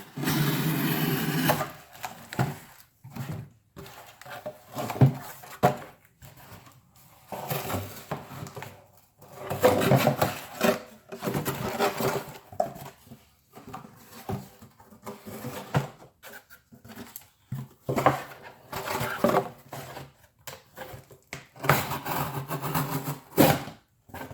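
A Civivi Vexer folding knife slicing through material, heard as irregular short scraping and cutting bursts at close range, with quiet pauses between strokes.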